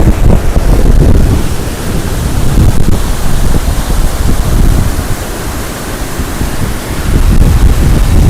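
Sutlej river at Ropar running high and fast after heavy rain, a loud, steady broadband roar of rushing water with wind buffeting the microphone, continuous throughout with no voices.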